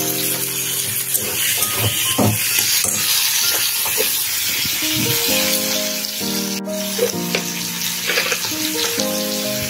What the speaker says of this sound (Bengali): পেঁয়াজটা একটু ভাজা ভাজা হলে টমেটোটা দিয়ে দেবো